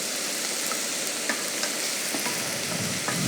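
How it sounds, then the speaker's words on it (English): Caramelized onions sizzle steadily in butter in a pan, a close, continuous crackling hiss with a few soft stirring clicks and no voices. "We got our onions as well here for the garnish, our caramelized onions."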